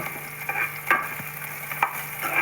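Chopped onion fries in a small amount of oil in a pan, a soft steady sizzle broken by a few sharp scrapes and clinks of a stirring spoon; no voices.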